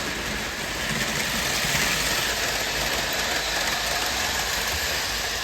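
A post-war Lionel 675 Prairie steam toy train engine from about 1947 or 1948 runs steadily, giving a constant close mechanical whir and rumble with no pauses and no voices.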